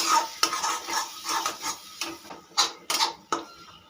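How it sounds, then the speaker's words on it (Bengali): A spoon scrapes and stirs cashew paste into spices in a metal pan while cooking Kashmiri aloo dum, giving repeated close clinks and scrapes in an uneven rhythm with no talk. "কাজু বাটাটা খুব ভালো করে মিশিয়ে নেব মশলার সঙ্গে।"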